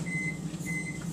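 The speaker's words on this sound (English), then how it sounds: "we're going to go put this in the microwave for 90 seconds" A kitchen microwave oven runs with a steady low hum, while a thin tone rises and fades twice over about a second, heard close by and without voices.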